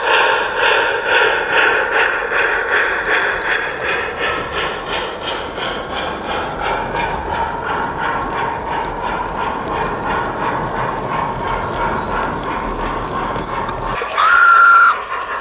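A Peckforton Light Railway miniature train pulls away with wagons marshalled at the rear, giving a steady rhythmic clatter and engine chuff throughout, then a brief high whistle-like tone near the end.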